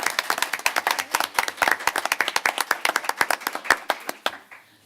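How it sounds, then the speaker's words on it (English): Audience at a high school board of education meeting claps for arriving students: a few seconds of brisk, close, uneven handclaps from a small group, fading out abruptly at the end. "Let's give them a round of applause as they come up."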